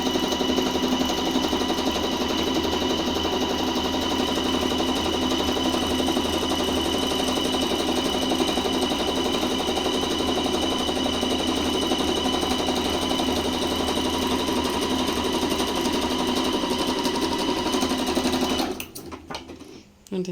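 A table top sewing machine stitching a decorative pattern, a loud steady rapid whir and needle chatter running continuously close by, then stopping abruptly with a brief rattle near the end.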